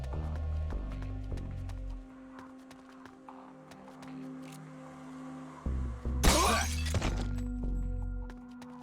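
Glass shatters loudly in Metal Gear Solid: Portable Ops, one sudden bright crash near the end breaking into a scatter of falling shards, over a quiet game backdrop with footsteps and low ambient tones.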